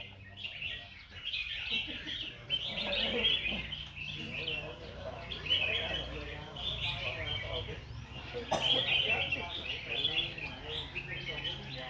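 Red-whiskered bulbuls sing in cages at a songbird contest in Bình Dương, Vietnam, with repeated bright chirping phrases from several birds over a murmur of people talking nearby.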